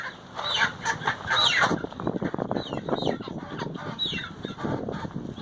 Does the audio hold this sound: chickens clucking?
yes